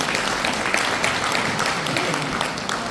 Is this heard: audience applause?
yes